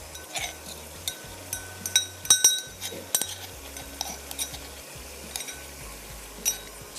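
A spoon clinks and scrapes against a cooking dish as brown onions are stirred in, sharp irregular taps scattered over a quiet, low background.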